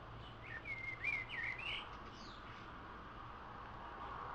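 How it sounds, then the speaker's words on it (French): Several quick, high bird chirps and tweets sound outdoors in the first two seconds, fairly faint over a steady low background hum, with quieter calls trailing off after. "Mais nous, on entend les oiseaux."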